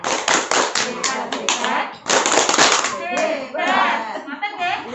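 An audience in a parenting class claps together in a rhythmic group pattern, bursts of sharp hand claps repeated in quick sets, with voices chanting along between them.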